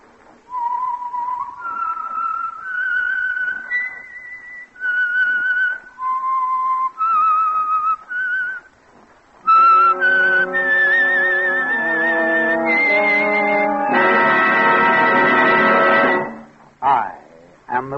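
The signature whistled theme of The Whistler, the Signal Oil radio program: a lone melodic whistle of sustained rising and falling notes, then joined by a swelling orchestra, loud and clear.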